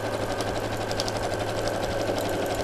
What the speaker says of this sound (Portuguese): Vou à máquina, vou quiltar e já volto.